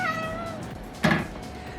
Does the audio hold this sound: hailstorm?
no